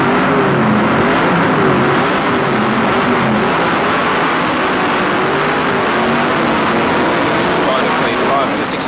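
Improved production touring cars of 1973 at Warwick Farm accelerate off the starting grid onto a slippery road, a dense, loud, continuous engine roar with a commentator talking over it.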